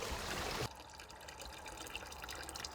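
Stream water pours from a hose beside a brook, with a loud, dense splashing rush that cuts off abruptly, leaving a faint trickle and scattered drips.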